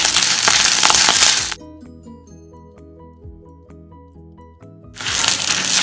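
Curry leaves crackle as they fry in hot oil for a Kerala dish with pappadam and shallots, a loud, dense burst of crackling at the start and again at the end, with a tonal musical passage in between.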